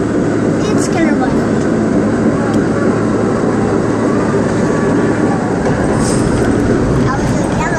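An R32 subway train running on the New York J line, a loud continuous rattle and rumble of the car in motion with faint squeals over it.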